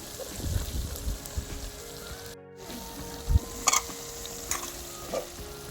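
Coriander powder and garam masala stirred in a frying pan, with a steady close sizzle and scraping spoon strokes through it and a brief dropout partway.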